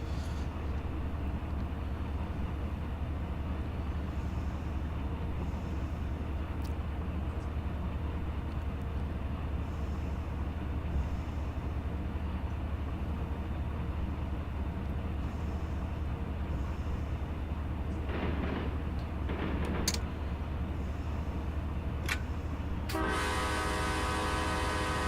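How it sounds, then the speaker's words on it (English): A CSX rail grinder train rolls past in the Run 8 train simulator, a loud continuous heavy rumble and mechanical drone that holds steady throughout, with brief horn-like tonal bursts near the end. "The rail grinders are always neat to see."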